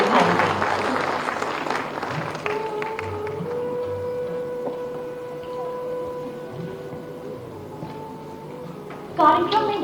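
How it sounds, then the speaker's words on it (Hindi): Audience applause at a public ceremonial event: a dense burst of clapping opens and then thins into a steady background wash under a sustained tone, before a fresh loud round of clapping breaks out near the end. "तालियों की घंकार बजती रहनी चाहिए, क्योंकि शुभ अवसर पर तालियों के साथ ही हम अपनी सम्मिलितता दिखाएंगे।"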